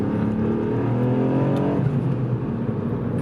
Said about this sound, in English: Makes the exhaust pop a bit as well.